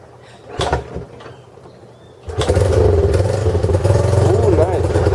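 A Honda 125 motorcycle is kicked over with a few knocks and clunks, then catches and settles into a loud, steady idling putter heard up close, with a voice speaking at moments.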